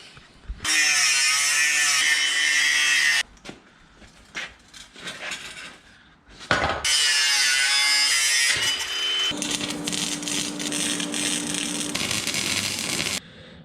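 A power cutting tool slices through exhaust pipes for a 1934 Plymouth rat rod, producing loud, sustained high-pitched grinding whines in two long bursts, separated by a short stretch of rattling and knocking, with no speech.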